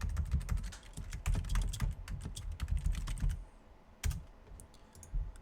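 Rapid keystrokes on a computer keyboard come in dense, close bursts for about three seconds, stop briefly, then return as a few scattered taps, with no talking.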